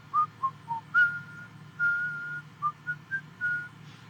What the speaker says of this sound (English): Just whistle some little tune